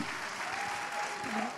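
Audience applause at a political event with Ganjar Pranowo, a steady dense wash of clapping filling the short moment, fairly distant and even in level.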